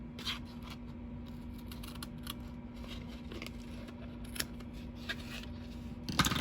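Scissors snip a ribbon end on a Christmas craft box, with a few small close cuts and light paper rustle over a faint steady hum, no talking.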